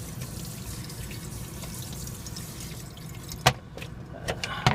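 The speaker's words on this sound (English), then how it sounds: "I'm going to finish rinsing off my celery" Tap water runs steadily into a sink while celery and broccoli are rinsed inside a truck, a close, even hiss of flowing water, with a few brief splashes and knocks near the end.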